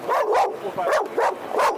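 A dog barks repeatedly from under a crate where it is hiding, giving four loud, close yelps in a quick, uneven rhythm with no voices over them.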